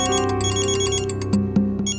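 A phone ringtone plays, a steady electronic tone pattern with rapid pulsing beats and sharper accents near the end, loud and close.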